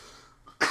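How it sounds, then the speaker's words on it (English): A single short, sharp cough bursts out at the end after a moment of near silence, close to the microphone during a podcast conversation. "you got a cough to get off, right?"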